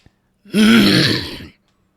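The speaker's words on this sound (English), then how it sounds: "I'm literally clearing my throat" A single loud, drawn-out throat clearing lasting about a second, rough and guttural, close to the microphone with silence around it.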